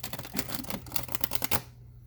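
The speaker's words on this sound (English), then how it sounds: "It's the only sign where this deck has shuffled this peacefully." A tarot deck being shuffled, giving a quick, close flutter of crisp card clicks for under two seconds before it falls silent.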